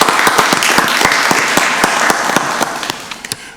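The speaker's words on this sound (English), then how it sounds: "Give him another round of applause." A round of applause in a county board of commissioners meeting room: many hands clapping, dense and loud with distinct sharp claps, gradually thinning out toward the end, with no talking.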